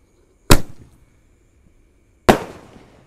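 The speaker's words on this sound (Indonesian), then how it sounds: "terima kasih sudah mengikuti menyalakan semua mercon dan petasan" Two loud, separate firecracker blasts go off on Lebaran night, each a sharp crack with a short decaying echo, about two seconds apart with quiet between.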